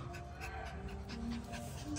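A fierce dog pants rapidly and steadily close by, in a neighbour's yard where a kite has fallen, with faint background noise.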